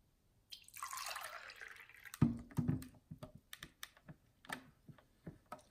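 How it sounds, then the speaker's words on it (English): Water from an AquaBliss 10-cup filter pitcher streams out of its partially opening lid for about two seconds, then a series of faint, close drips and small clicks follows, alone without talk. "So this is how the water dispenser works."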